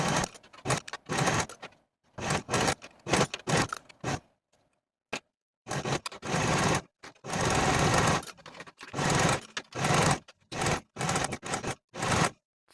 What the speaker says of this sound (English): And then sew the side seam with a 1/4 inch seam allowance and repeat for the other side seam.